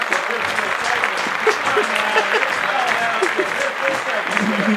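Steady applause from a comedy show audience, dense clapping sustained throughout at an even loudness, with faint voices mixed underneath.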